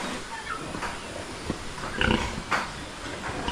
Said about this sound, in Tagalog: At yung mga alaga ating baboy dito mga kaprobinsya